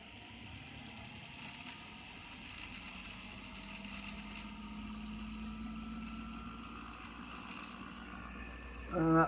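A laminated coil generator spins at 3,600 RPM, giving a quiet, steady mechanical hum with a low drone that holds even for several seconds before a short louder rattle at the very end.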